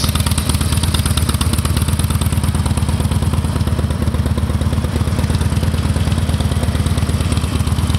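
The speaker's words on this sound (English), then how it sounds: "Got the 96 cubic inch rubber mounted motor, 6-speed cruise drive transmission." A 2009 Harley-Davidson Dyna Low Rider with a rubber-mounted 96 cubic inch engine idles close by, a loud, steady, rhythmic lumpy chugging throughout.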